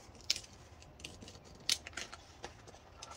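Scissors snip through paper while a monthly layout in a Happy Planner is being made, giving two or three sharp, crisp cuts spaced apart with faint rustling in a quiet room.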